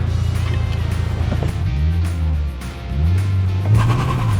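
Engine of a 2022 Subaru BRZ with a widebody kit while driving, a loud close drone that drops in pitch and climbs again through gear changes, surging near the end.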